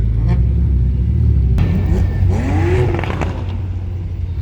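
Blue Lamborghini Revuelto supercar at a car show, its engine giving a deep rumble with a sharp revving rise and whooping pitch swings midway. The sound is close and loud over a busy crowd background.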